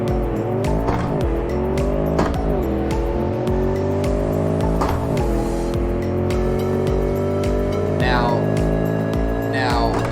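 An all-wheel drive car with an LSX 375 V8 in the BeamNG.drive video game revs hard and accelerates, its engine note rising and falling through gear changes, with tire squeal near the end and someone talking over it.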